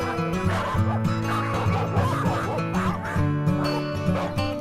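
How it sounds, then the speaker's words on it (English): Sled dogs at a kennel bark, yip and whimper together in an overlapping chorus, steady and fairly close, with musical tones running underneath. "Here are some of the dogs at the Oregon Trail of Dreams."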